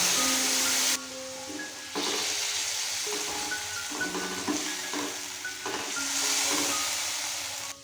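Ground mustard and poppy seed paste with green chillies hisses and sizzles in a pan with fried eggplant, a steady close frying sound under faint tonal background music, with no one speaking.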